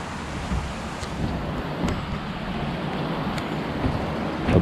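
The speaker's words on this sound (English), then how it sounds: "A bubbling brook." A bubbling brook flows under a highway bridge, making a steady, dense rush of water noise close by with slight wind buffeting and no talking.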